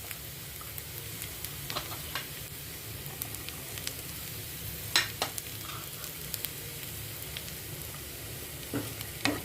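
Ginger, garlic and a green chili frying with onions in a pan over a low flame give a steady soft sizzle throughout, with occasional light clicks and scrapes from stirring standing out above it.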